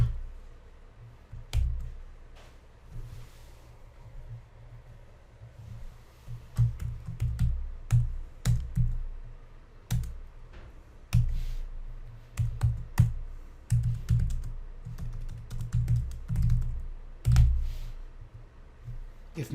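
Code is typed on a computer keyboard as quick irregular clusters of key clicks and taps, starting sparse and then coming in dense bursts over about twenty seconds, close and clear with no talk.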